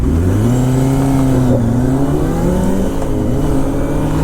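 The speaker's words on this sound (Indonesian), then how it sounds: "4 silinder 1000 cc emang suaranya gacor banget." A four-cylinder 1000 cc motorcycle revs hard somewhere behind on a Japanese village road in Saitama, its rising and falling engine howl loud under steady wind rush, with no talking.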